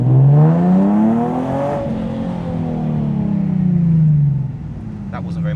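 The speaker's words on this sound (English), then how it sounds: "Just give it a little bit of a wheel spin off the line." A Nissan 370Z Nismo sports car launches hard off the line with slight wheel spin, the engine roaring up through the revs, briefly dipping at a shift and climbing again, loud and close from inside the cabin.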